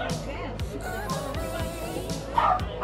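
Small dog yipping and barking a few times at an outdoor market near Bondi Beach in Sydney, heard close amid crowd bustle with people talking nearby.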